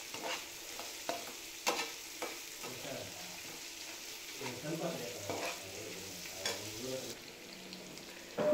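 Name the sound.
onions frying and being stirred in a pan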